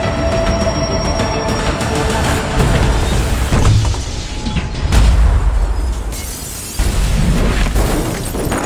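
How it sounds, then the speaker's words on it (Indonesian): A large explosion from a thrown bomb goes off, a loud, rumbling blast with heavy low-end bursts that surge, fade slightly and surge again over several seconds, with no voices. "Ledakan besar terjadi."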